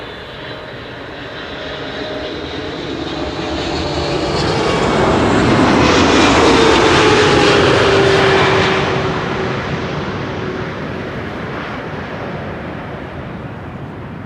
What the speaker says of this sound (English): And we can also hear the GE90s being started.